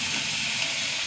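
Shallots hiss and sizzle steadily as they drop into hot coconut oil in a pan, a dense, even frying noise filling the whole moment with no talk.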